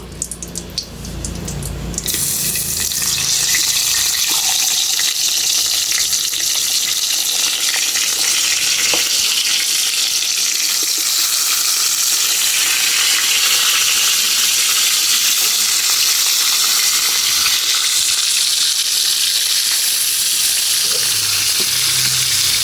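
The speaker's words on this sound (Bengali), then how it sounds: "এখন মাছগুলো সুন্দর করে ফ্রাই করে নেব" Rui fish pieces frying in oil in a pan at a village kitchen, beginning with a few clatters before a loud, close, steady sizzle takes over and holds for the rest of the clip.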